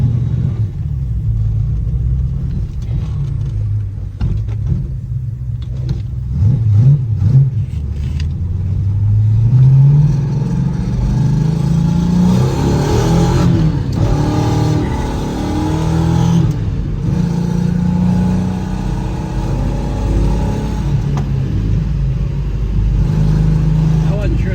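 A 1968 Pontiac LeMans GTO tribute with a 455 engine and five-speed runs loud and close, with rising and falling revs and a deep rumble while people talk over it.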